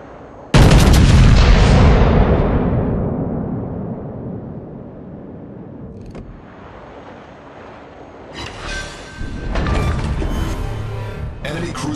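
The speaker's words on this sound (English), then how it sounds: "Concentrate fire on the enemy warship." One huge naval gun salvo from a warship in World of Warships booms out and rumbles away over several seconds, followed by more mechanical clatter and scattered firing.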